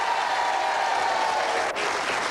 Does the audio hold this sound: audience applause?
yes